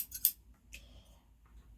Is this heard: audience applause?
no